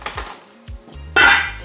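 Metal utensils clink against a soup pot on the stove as garlic goes in, a few sharp clanks and taps followed by a louder rustling clatter near the end.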